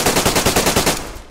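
Rapid bursts of automatic gunfire from a DayZ firefight, about ten fast, evenly spaced close shots rattling off in a single loud string before cutting out.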